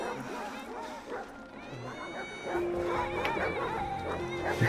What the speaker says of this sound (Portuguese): fui atacado aí pelos cachorros. Os cachorros pretos.